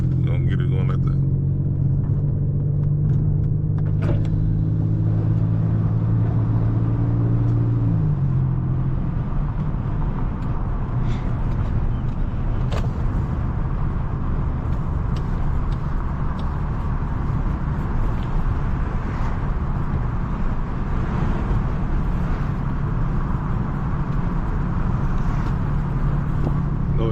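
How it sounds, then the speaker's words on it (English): A newly bought car driving with its sunroof open, heard from inside as a steady low rumble of engine and road with wind noise, an engine tone shifting early on, and a person speaking at times. "let y'all hear the car"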